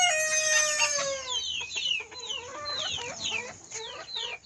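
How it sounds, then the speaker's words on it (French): A young rooster lets out a strained, crackly crow, followed by a flurry of chickens clucking and squawking close by. "Et voilà, un petit coq."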